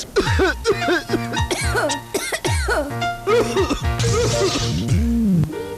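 Several harsh coughs break out over a busy mix of voices and music, one rougher burst standing out near the end.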